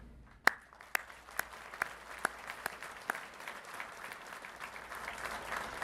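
Applause for graduates' families at a recruit class graduation ceremony: a few sharp, widely spaced single claps at first, then building into softer, steadier clapping from a crowd in a large room.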